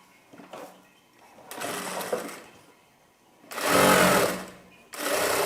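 A sewing machine stitches petticoat fabric in three bursts of rapid, loud mechanical whirring, with brief pauses between runs and no talking.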